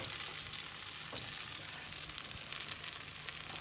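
Two Lviv-style potato pancakes (deruny) fry in plenty of oil in a pan, giving a steady close sizzle and crackle throughout with no talk.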